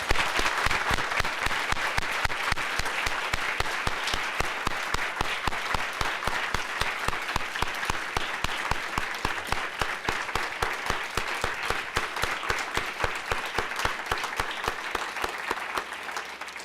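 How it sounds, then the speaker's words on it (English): An audience at a leadership program talk applauds a guest speaker named Brooks, a long, even wave of clapping with a steady rhythmic pulse that carries on for over fifteen seconds and gradually thins near the end. "we should give Mr. Brooks another round of applause"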